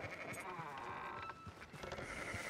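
Sheep bleat repeatedly in the video game Red Dead Redemption 2, several wavering calls overlapping close by at low volume.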